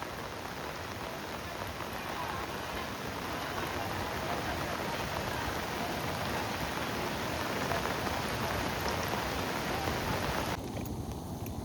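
Heavy rain pours steadily near Kondeshwar Temple in Badlapur, a dense, loud, unbroken hiss of drops striking surfaces that holds for the whole stretch without voices, easing slightly in the final second.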